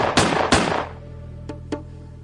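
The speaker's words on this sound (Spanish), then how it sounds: "los disparos que estábamos haciendo le dieron" Gunfire as a sound effect: two loud, sharp close blasts in quick succession with ringing decay, then two fainter, distant cracks a second later.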